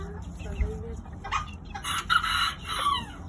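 A rooster crows a couple of times at moderate distance, its calls rising over a low rumble of background noise and faint voices.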